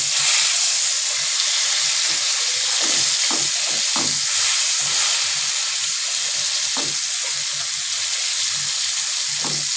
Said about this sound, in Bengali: পেটের এই অংশটা একটু চেপে চেপে ভাজলে আর ভাজাটা সুন্দর হয়